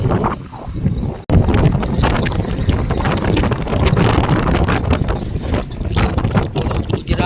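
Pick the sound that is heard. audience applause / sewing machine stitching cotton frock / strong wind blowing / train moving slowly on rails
strong wind blowing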